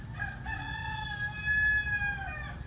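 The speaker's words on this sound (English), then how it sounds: "It's a really cool chicken, eh?" A rooster in a chicken house in the Philippines lets out one full, drawn-out cock-a-doodle-doo crow, loud and fairly close, standing alone over faint background noise.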